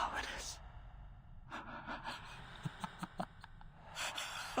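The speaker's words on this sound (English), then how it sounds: "I'm sorry, it's the breathing." Heavy, close breathing from a character in Reverse 1999, with sharp gasps and snorting breaths coming in short bursts, plus a few soft clicks and smacks, loud and right up against the ear.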